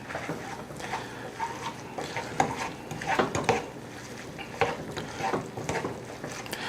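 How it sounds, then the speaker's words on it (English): A spoon scrapes and clatters through lettuce wrap filling in a Ninja Foodi NeverStick pan on a stovetop at low-medium heat, making irregular knocks and scrapes over a faint sizzle, with no talking. "stir all that together. Get everything nice and incorporated."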